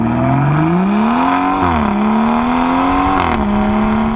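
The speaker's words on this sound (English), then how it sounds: "you hear a lot louder exhaust note from the back" A loud 2018 BMW 340i M Performance Touring engine revs up under acceleration, its exhaust note rising in pitch, dipping at gear changes, then climbing again, close by.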